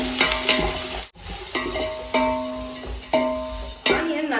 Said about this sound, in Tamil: ஆனியனை நல்லா வதக்கிறேன்.